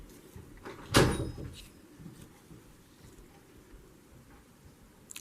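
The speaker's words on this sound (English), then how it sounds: "that was my door, sorry about that, Mr. Possum just walked by." A nearby household door opens or closes with one short, loud knock and rattle, followed by a quiet room.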